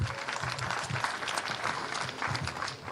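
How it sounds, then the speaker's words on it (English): Audience clapping after a chief guest's speech at a formal event, steady dense applause filling the room for the full stretch with no voices over it. "I would like you to clap for him once again."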